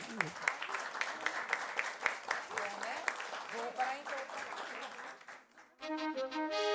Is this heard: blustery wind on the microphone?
no